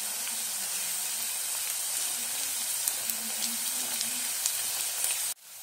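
Whole spices and chopped onions frying in hot oil for matar paneer, a steady, close, bright sizzle and crackle with small pops throughout, cutting off abruptly near the end.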